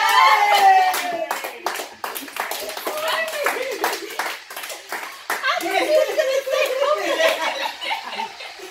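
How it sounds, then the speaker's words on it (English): A small group claps hands in a casual indoor setting, sharp distinct claps in bursts alongside laughter, chuckles and excited voices, including a child's, talking over them. "Can we clap?"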